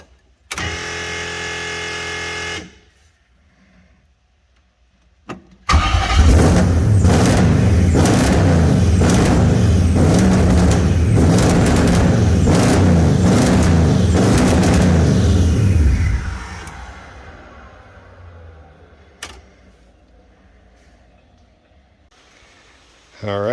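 A Nissan Z31 widebody car's engine fires and runs loudly for about ten seconds with a pulsing, throbbing rhythm, preceded by a short whirring burst and settling into quieter noises afterward.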